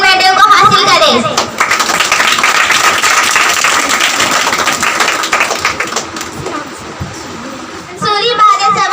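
An audience gives loud applause for a gold medal winner at a student prize distribution ceremony. The clapping swells for several seconds between stretches of an announcer speaking over a microphone.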